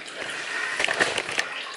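Water runs steadily during sparging of a rye beer mash in home brewing, a close, continuous splashing trickle with small gurgling surges and no talk.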